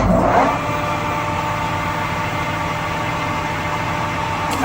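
A TRAK TRL 1745P lathe runs with its spindle turning forward at 625 rpm, making a steady, loud mechanical hum with a constant tonal whine after a brief start transient.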